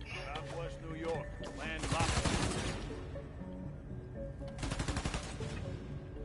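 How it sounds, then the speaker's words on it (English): Bursts of rapid gunfire in the Spider-Man: Miles Morales video game, quick volleys crackling in two clusters over game music and effects. "What are they shooting at?"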